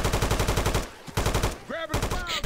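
Video game gunfire in a Helm's Deep battle, with rapid repeated bursts of automatic fire that pause briefly and then resume, loud and close, under and between faint game effects.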